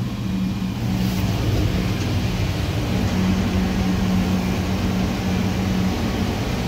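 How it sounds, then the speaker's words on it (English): Steady, loud engine drone from inside a Shuttlewagon railcar mover as it drives, a constant low hum with little change over the whole stretch. "So here we are inside the shuttle wagon. Let's go for a ride."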